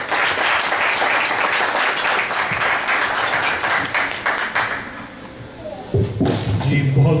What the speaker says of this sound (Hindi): आपकी भरपूर तालियों में दावत दूंगा